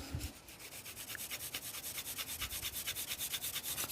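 A drawing tool is rubbed back and forth over paper laid on a French wooden floorboard, a close, even scratching in quick regular strokes, about fifteen rasping passes in a row with no voices.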